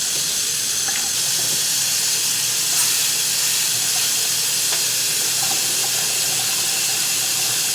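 Kitchen tap water runs steadily while food is rinsed during home dinner cooking, a continuous broadband hiss that fills the whole stretch at even loudness, with a few faint clinks.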